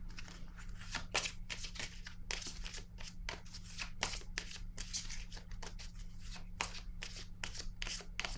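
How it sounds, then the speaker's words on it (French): Tarot cards being shuffled and drawn by hand, a steady run of crisp riffling flicks and slaps, close and fairly loud, with no one talking. "Je vais piger maintenant une carte rose."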